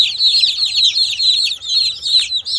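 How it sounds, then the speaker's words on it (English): Cornish cross meat chicks in a brooder peep constantly in a dense, high-pitched chorus of overlapping chirps, loud and close with no pauses. "Cornish cross meat chicks."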